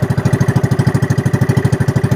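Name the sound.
fishing boat engine running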